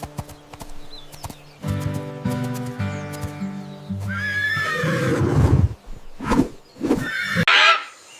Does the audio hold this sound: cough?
no